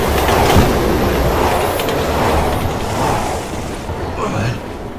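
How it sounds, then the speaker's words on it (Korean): Subway train rolling through a zombie-infested area in Resident Evil 6, a steady loud rumble of wheels and carriage noise filling the whole stretch, with clattering rail texture and no voices. "전철 전철은 왜 움직이는 거야"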